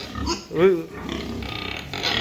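A village pig grunts and squeals close by, one loud call in the middle of steady low snorting and shuffling, with people talking around it.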